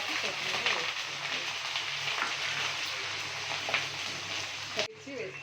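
Faint, continuous sizzling of a frying mixture for egg biryani as it is stirred in a pan, with scraping touches, ending in a short clatter.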